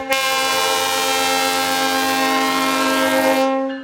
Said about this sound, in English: K5CAs are Canadian horns.